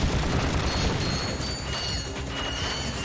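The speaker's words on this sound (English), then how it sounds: "So many shooting noises in this level." Dense, continuous gunfire and explosions in the video game Ratchet & Clank (2002), a loud busy wash of rapid shots and booms with no pauses.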